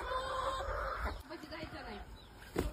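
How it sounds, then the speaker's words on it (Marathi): Roosters cluck and squawk close by in short bursts as they are caught and held, with people talking and some handling noise around them. "बघू शकता हे आपण कोंबडे धरले"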